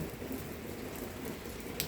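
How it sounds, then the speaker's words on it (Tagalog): Steady rain falls, a dense even hiss from start to finish with no one speaking. "umuulan sa amin ngayon guys"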